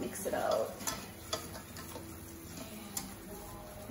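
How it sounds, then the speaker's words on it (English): Mac and cheese sauce being stirred in a pot, with soft scraping and a brief low sizzle early on, plus a few light clicks of a utensil against the pot; quiet and close, with no talking. "Mix it for a little bit, mix it out."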